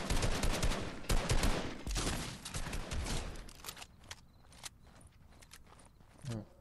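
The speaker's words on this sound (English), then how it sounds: "He's not building, he's just shooting." Rapid bursts of gunfire from a Fortnite match crackle in dense, overlapping volleys that thin out into scattered shots and footsteps.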